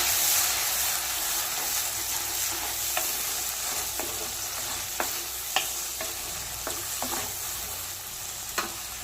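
Chopped tomatoes and onions sauté in a clay pot for a sardine fish curry, a continuous soft sizzle with scattered sharp clicks and scrapes of a spoon against the pot. No voices are heard.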